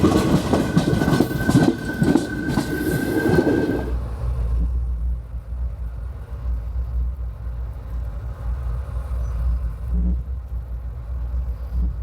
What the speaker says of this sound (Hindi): हमारी ट्रेन पहुंची है सारवाड़ी